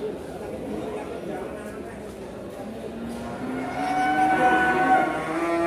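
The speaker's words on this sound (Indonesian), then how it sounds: "Sapi dari lereng Muria." Cattle low at a livestock market near Kudus, with someone talking throughout and a longer drawn-out moo rising toward the end, amid the steady murmur of a busy crowd.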